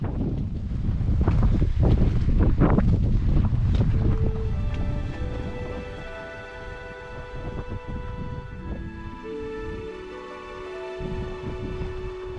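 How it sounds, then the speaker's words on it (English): Strong wind gusting near the summit of Mount Fuji in cold conditions, a loud broadband roar buffeting the microphone that eases after a few seconds into a steadier rush with faint tonal hum. "The wind has picked up near the top and the temperatures dropped considerably"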